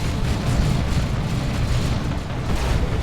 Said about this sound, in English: Plasma Cannon Devastator knocking over the Chaos Terminators.